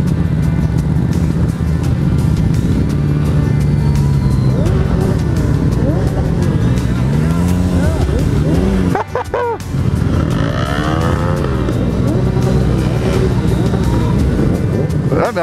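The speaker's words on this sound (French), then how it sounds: "Non, c'est quelqu'un qui a tapé un burn." Car doing a burnout, its engine revving hard with rising and falling pitch sweeps, loud and close, with a brief dropout midway before the revving resumes.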